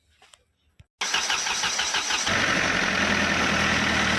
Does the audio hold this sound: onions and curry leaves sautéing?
no